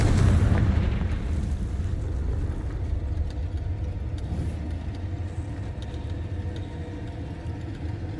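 Confringo fire-blast spell cast in Hogwarts Legacy, a heavy low rumbling boom that opens strongly and then lingers as a steady dull roar for several seconds with no speech.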